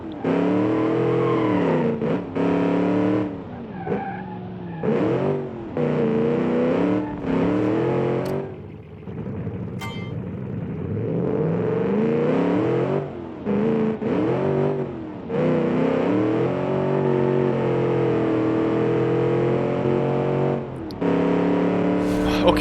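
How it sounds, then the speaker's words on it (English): Deep rumbling engine of an Australian muscle car in the BeamNG driving game, revving and surging continuously with a voice talking over much of it. "I like this deep rumbling sound that it has."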